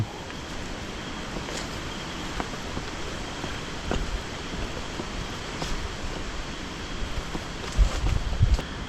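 Steady outdoor wind blows across the microphone on a cold, breezy morning, a continuous broadband rush with faint rustling and a few louder low buffets near the end.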